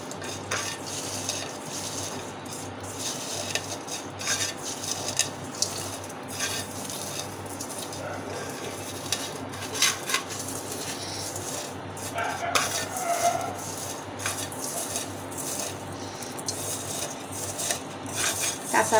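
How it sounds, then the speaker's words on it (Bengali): Dried chili being rubbed and mashed with boiled jackfruit seed paste for bharta, heard as a steady run of close scraping, rubbing and light clattering against a bowl or plate throughout, with no talk. "আর এখন এটা আমি ভর্তা করে দেখাই"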